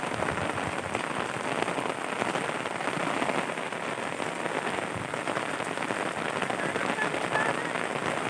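Sudden rain falls steadily on surfaces in a village, a dense even hiss of drops that holds at constant loudness throughout.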